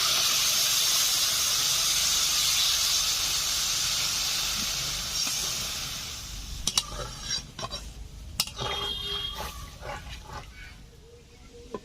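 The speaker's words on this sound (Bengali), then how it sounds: "এখন দিয়ে দিচ্ছি পরিমাণ মতো জল।" Water poured into a hot pan of village-style ritha fish curry with whole garam masala and chopped tomato, a loud broad hiss fading into softer bubbling, with sharp clinks and stirring sounds near the end.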